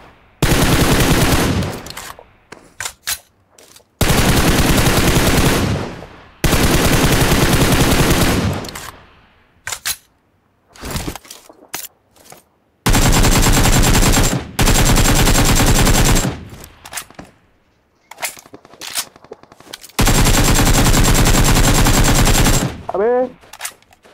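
Gunfire in the mobile battle-royale game BGMI: long, loud sustained bursts of automatic fire alternating with short single shots and brief pauses, up close and dominating.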